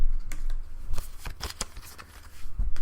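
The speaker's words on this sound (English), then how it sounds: "I'm going to pick up all the cards, shuffle them all up" Board game cards shuffled by hand in a quick run of crisp riffling and snapping bursts, close and fairly loud, with no voices.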